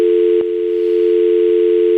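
A steady, loud telephone dial tone, a continuous unbroken hum heard alone and close with no talking.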